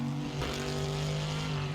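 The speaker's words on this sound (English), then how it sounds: "there goes an LMP getting really, really close to a GTE going through turn on the front straight towards turn 1" LMP and GTE race cars run together on the front straight toward turn 1 at Road Atlanta, a steady droning engine note held throughout with a brief rise as they pass.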